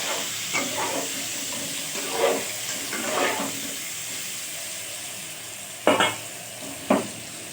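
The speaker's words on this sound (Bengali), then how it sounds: "এবার আমি কড়াইতে তেল দিয়ে ডিমটাকে ভেজে নেব।" Boiled eggs fry in hot oil in a wok, a steady sizzle running beneath occasional scraping stirs and a couple of sharper knocks of the spatula near the end.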